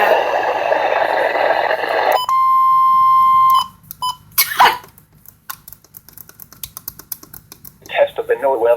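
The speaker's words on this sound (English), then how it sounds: "Test of the NOAA weather radio warning alarm device and the emergency alert system" NOAA weather radio warning alarm sounds a loud, steady electronic tone for about a second and a half, cut sharply at both ends, followed by scattered clicks and short bursts, with a voice talking at the start and again at the close.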